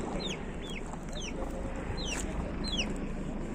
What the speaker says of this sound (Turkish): Burada tavuklar da var dostlar. Bakın civciv var iki tane.